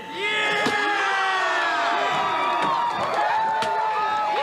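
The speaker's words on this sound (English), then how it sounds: "hear the screams and the cheers of the crew all around." Loud race crew at a NASCAR Whelen Modified Tour race at Thompson Speedway, screaming and cheering continuously, with overlapping shouts and whoops throughout.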